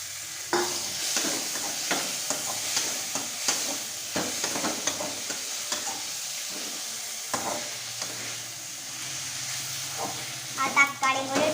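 Tomatoes frying in a hot pan give a steady, close sizzle with a constant hiss, broken by scraping stirs, with light clatter near the end.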